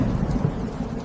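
Heavy nighttime rain pours down steadily in a dense, loud hiss with low rumbling underneath, alone and without voices.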